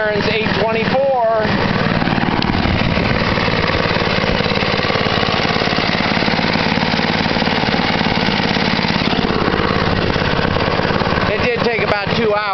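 An Ariens ST824 snow blower engine runs steadily close by, a rough, constant chugging drone that holds the whole time, with a voice talking briefly near the start and again near the end.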